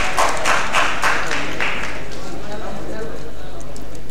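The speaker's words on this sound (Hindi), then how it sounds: "इसलिए जोरदार तालियां मेरे बचपन के मित्र के लिए।" Audience applause and clapping for the speaker's childhood friend at a farewell ceremony, a burst of many hands that fades over about two seconds into room murmur.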